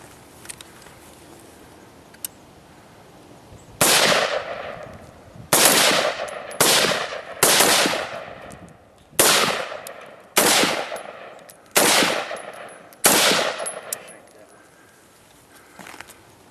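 Loud gunshots ring out one at a time from shooters in a kneeling position on a firing range, about eight evenly spaced sharp reports with decaying tails and brief gaps between them, and the shooting stops near the end.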